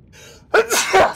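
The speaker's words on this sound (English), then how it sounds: "Gesundheit." A single close, loud sneeze, preceded by a sharp intake of breath, bursts out after a moment of near-quiet during a gaming stream.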